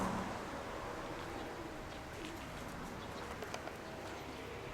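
Pigeons coo softly at a distance over a constant outdoor rumble, faint and low, with Shahed drones flying among them.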